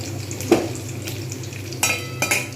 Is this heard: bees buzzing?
no